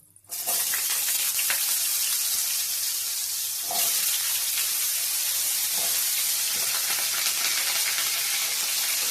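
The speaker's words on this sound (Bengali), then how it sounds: "এখন দিয়ে দেব এই তেলের মধ্যে আলু" Potatoes dropped into hot oil over a tempering of spices start a loud, steady sizzle almost at once, a dense close hiss that carries on unbroken with no talking.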